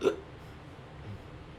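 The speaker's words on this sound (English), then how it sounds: "Is that like a hiccup?" One short, sharp hiccup right at the start, close and fairly clear, followed by quiet room tone.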